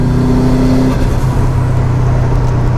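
A Subaru Impreza WRX with a 370bhp engine and a loud dump valve, heard as a close, loud, steady engine drone with a tonal whine that shifts pitch after the first second.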